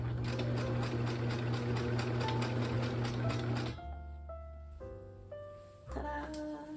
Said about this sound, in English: and then just sewing a seam straight across the top of that